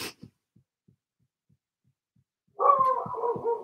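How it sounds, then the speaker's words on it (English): A dog barks a few times at moderate distance near the end, after faint soft thumps in an otherwise quiet room. "Oh my God, my dog's barking."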